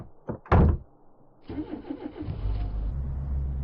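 A car engine in a video game cranks and starts after a door sound, then settles into a steady low idle rumble close by, with no talk.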